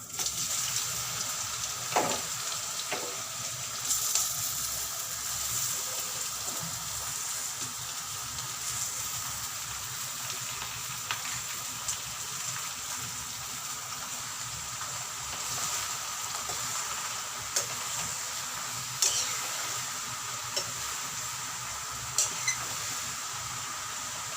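Bottle gourd frying with finely chopped garlic in a pan, giving a steady, moderate sizzle and hiss with occasional soft stirring clatters, no talk.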